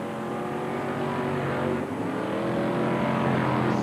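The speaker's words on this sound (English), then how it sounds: "So the cars go down the home straight." BriSCA Formula 1 stock cars racing at Mildenhall in 1987, a continuous loud roar of several engines with droning tones that shift in pitch as cars pass, heard alone without talk.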